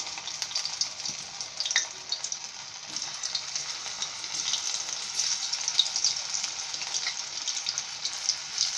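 Masala-coated cauliflower florets fry in oil in a kadai over medium flame, giving a continuous close, moderate sizzle with scattered crackles and pops throughout.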